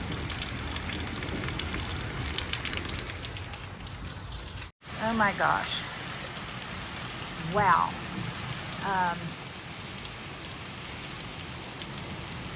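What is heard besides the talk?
heavy rain falling on the prairie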